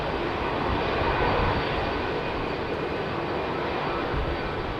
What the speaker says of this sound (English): Standard long Dreamliner rollout.